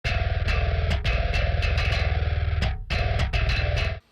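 Programmed modern metal drums soloed, with rapid double-kick patterns, ghost notes and cymbal accents in a dense, loud, driving groove, brief gaps near the end.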